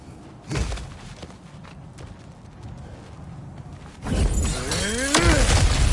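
Objects being smashed in God of War Ragnarok: a sharp crash early, then a loud shattering break with clattering debris and ringing, swooping tones trailing off.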